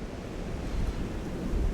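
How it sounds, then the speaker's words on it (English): Fierce wind in an Irish garden after storm Éowyn, a continuous roaring rush with heavy low buffeting against the microphone, rising slightly toward the end, no speech. "I know it's fierce windy."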